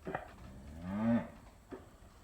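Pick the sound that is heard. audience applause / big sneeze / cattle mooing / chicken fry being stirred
cattle mooing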